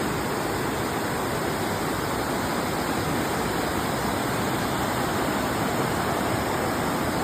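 Durga Falls near Karkala, Tellar, heard from a small bridge over the river, gives a steady, dense roar of rushing water that fills the whole stretch at constant loudness, with no voices.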